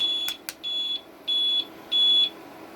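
An electronic alarm on an APC 3000VA 48V server UPS beeps in a steady pattern of long, piercing tones, four evenly spaced beeps after two sharp clicks, loud and close.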